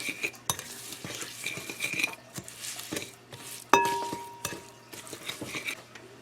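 Vegetables and salt being stirred in a cooking pot while chicken and potatoes are prepared: a utensil scrapes and clinks against the pot in irregular strokes, with one sharp metallic knock midway and soft sizzling underneath.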